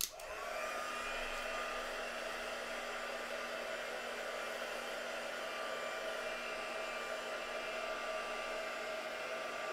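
A hair dryer drying paint on a mixed media artwork runs steadily and fairly quietly after a sudden switch-on, a constant whirring hum with no speech.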